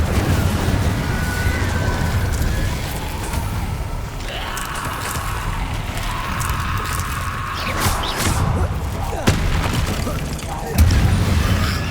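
Fire spell Incendio cast in the video game Hogwarts Legacy, amid a flurry of combat spells: bursts, booms and whooshing flares of magic, loud and steady with a few sharper impacts near the end.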